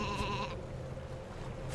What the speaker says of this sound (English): There are some hidden sheep within the map that you need to find.